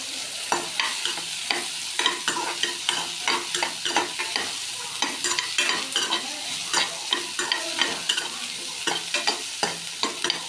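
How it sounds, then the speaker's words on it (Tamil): Chayote chutney ingredients are sautéed and stirred in a pan: rhythmic scraping strokes of a spoon repeat over a constant frying sizzle, close and clear, with no voices. "கொஞ்சம் இப்படி வதக்கி விட்டுக்கிட்டே இருக்கணும்"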